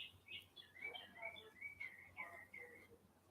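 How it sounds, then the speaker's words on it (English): A bird chirps outdoors in a run of short, bright whistled tweets, close and fairly clear over a soft background hiss. "That bird's happy."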